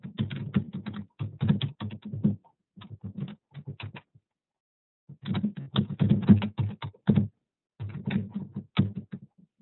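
Keys on a computer keyboard tapped in quick bursts of clicking, pausing briefly between runs, close and clear with no talking.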